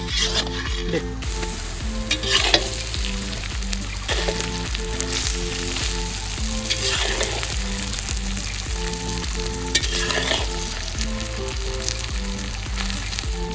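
Rice stir-fried with sautéed vegetables in white oil for egg fried rice, a steady close sizzle broken by repeated spatula scrapes and stirring knocks throughout, with faint music underneath.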